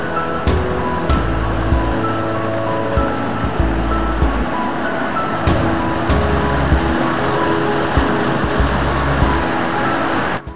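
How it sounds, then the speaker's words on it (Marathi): A monsoon-swollen stream in a Konkan village rushes through a narrow channel, making a steady, loud, broadband roar of water that runs without a break. "तेथे वहाळ एका निमुळत्या जागेवरून खाली जात आहे, त्यामुळे पाण्याचा प्रेशर इथे जास्त आहे."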